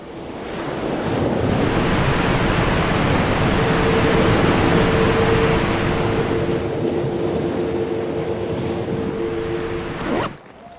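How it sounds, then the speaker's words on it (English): Broad, steady rushing of ocean surf and falling water, loud and continuous for about ten seconds with a faint tonal hum underneath, ending abruptly. "All those random sounds of waves and waterfalls"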